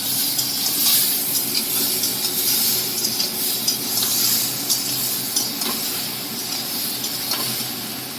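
Soybean curry being stirred in a pan after Maggi masala goes in, with a steady soft sizzle and repeated scraping strokes of the spoon and no voices.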